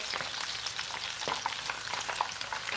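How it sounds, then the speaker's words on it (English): Onions, rosemary, thyme and lemongrass fry in very hot oil, giving a loud, dense crackling sizzle with brief stirring scrapes, close up and continuous, with no voices. "these onions, the rosemary, the thyme, the lemongrass is flavoring out this oil very nicely"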